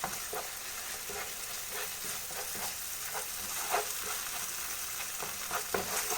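Chicken masala with tomato ketchup and soy sauce sizzles in a pan under a steady frying hiss, with soft, repeated stirring scrapes throughout, close and even.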